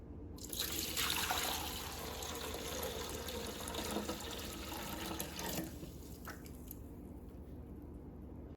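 Water pours and drains from the reservoir of a Breville espresso machine during a descaling clean, a steady splashing gush close by that cuts off sharply partway through, leaving a few faint drips.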